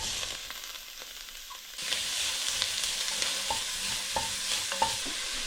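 Diced onion dropped into hot oil and beef drippings in a stew pot, a sudden bright sizzle that stays loud and steady, with scattered pops and scrapes of stirring.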